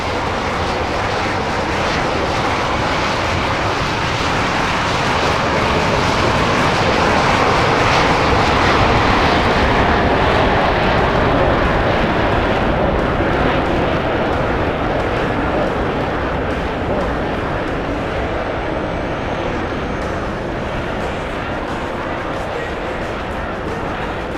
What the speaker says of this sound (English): you will now hear the Hornet's two General Electric F404 engines spooling up to their maximum power